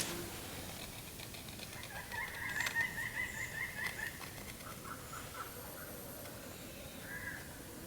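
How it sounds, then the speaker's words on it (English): A pileated woodpecker calling in woodland: a loud, rapid series of about eight ringing, cackling notes in one burst, fairly close, followed by faint background sounds and no talk. "That's a pileated woodpecker"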